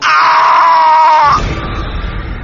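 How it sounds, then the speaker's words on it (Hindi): A shrill, sustained scream in a Hindi horror story rings loud and close for over a second, then cuts off into a dark rumbling ambience. "वापस आई तो बस उसकी चीख"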